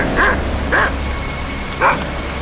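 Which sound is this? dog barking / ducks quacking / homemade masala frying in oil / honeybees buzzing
dog barking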